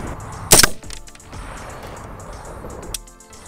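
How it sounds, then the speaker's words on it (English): A rifle firing Barnes 36 grain Varmint Grenade bullets at about 95 yards lets off one sharp, loud shot near the start, followed by a fainter crack and outdoor quiet. "I simultaneously shoot a 5-round group"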